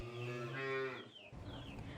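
Dairy cows mooing on a farm, one long loud low moo followed by softer lowing and livestock noise, with no talk.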